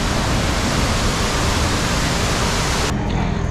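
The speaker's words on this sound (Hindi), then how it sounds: "ये वाटरफॉल बहुत ही बड़ा और जायंट वाटरफॉल है" Giant Someshwar waterfall near Nashik pouring with a strong flow, a loud, dense, unbroken roar of falling water heard up close, with the upper hiss dropping away near the end.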